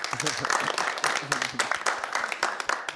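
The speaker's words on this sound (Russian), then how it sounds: "Аплодисменты" Brief burst of audience applause in a studio setting during a youth talk show, clapping mixed with overlapping speech and fading toward the end.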